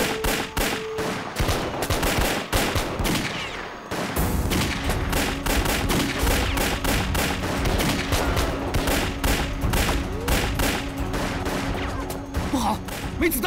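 Gunfire rages in a staged TV battle scene: rapid overlapping volleys of shots crackle almost continuously, with a brief lull partway through and a voice heard at the start.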